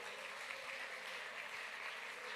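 A worship congregation applauds in praise of Jesus, a steady, dense wash of clapping filling the room at even loudness throughout, with no voices standing out.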